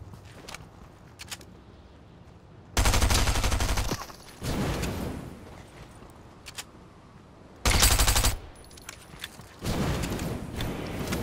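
Fortnite gunfire rattles in two loud, dense bursts, each lasting about a second, with quieter rapid shots trailing after them and separated by stretches of softer in-game rustle.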